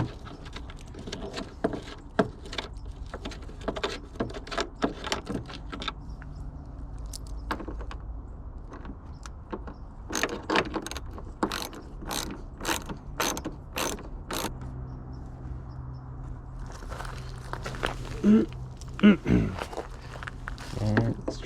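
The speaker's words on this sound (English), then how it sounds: "I'm going to remove these bolts." Bolts being removed with a wrench from the headlight assembly of a Hyundai Sonata, a series of close mechanical clicks and ratcheting taps in irregular bursts, with handling noise and brief quiet stretches between.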